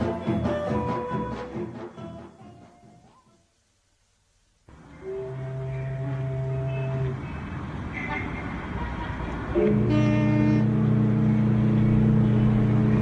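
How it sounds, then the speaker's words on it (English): Busy city street traffic in a radio drama setting, with cars passing and horns tooting amid a steady roar of engines that thins briefly to near silence before swelling back, with a voice speaking over part of it. "In a little while, the traffic will die away"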